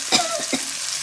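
Dried anchovies, prepared Palakkad style, fry in hot oil with a loud, close, crackling sizzle and a few brief stirring scrapes over about a second.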